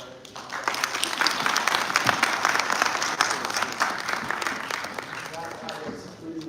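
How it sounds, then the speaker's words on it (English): A conference audience at the opening day of the Columbia Africa Conference in Harlem breaks into sustained applause, a loud, dense wash of many hands clapping at once that holds steady for several seconds before easing slightly. "I would like us to give another round of applause to"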